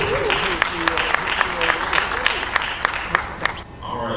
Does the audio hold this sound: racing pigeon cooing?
no